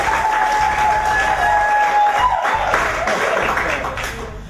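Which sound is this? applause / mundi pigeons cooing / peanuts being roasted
applause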